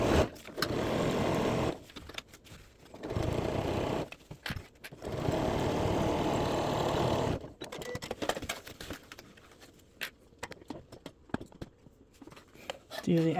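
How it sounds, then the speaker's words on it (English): A sewing machine runs along the side seams of a beach bag in several short bursts of fast whirring stitching, separated by pauses with light handling noise and a voice speaking. "now we're going to sew the side seams."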